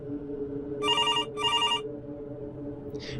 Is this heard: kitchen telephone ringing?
yes